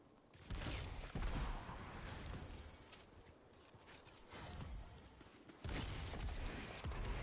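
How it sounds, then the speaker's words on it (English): Solar explosions in the Lorely Splendor video game, bursts of loud crackling blasts arriving in waves, with a sharp boom near the start and another surge near the end. "Boom. Solar explosions."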